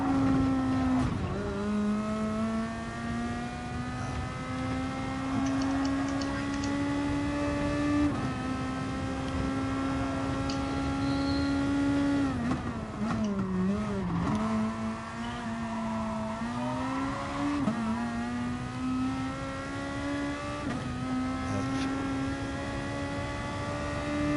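A Nissan GT-R race car engine in a racing video game holds a sustained high-revving drone, pitch climbing through gears with brief dips at shifts and one sharp drop and recovery midway, steady and unbroken throughout.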